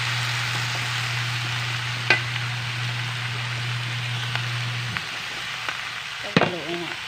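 Vegetables fry and are stirred in a hot pan, giving a steady close sizzle broken by a few sharp scrapes and knocks of the utensil, with no talk.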